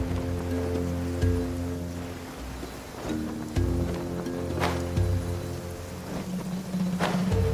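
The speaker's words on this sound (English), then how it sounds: "Let us find shelter from the rain." Steady rain falls in the fantasy game Genshin Impact, a continuous soft patter that stays under sustained in-game music tones for the whole stretch, with no talk.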